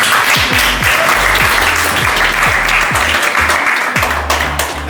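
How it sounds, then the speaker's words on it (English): Audience applause fills an event hall at an AI for Sustainability program competition in Indonesia: steady, dense clapping from a large crowd that holds for the whole stretch, with low tonal hum or music underneath. "a big round of applause for"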